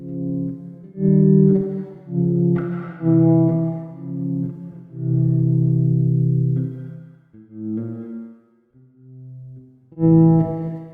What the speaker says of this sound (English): I'm just tapping notes and the expression is going with the reverb.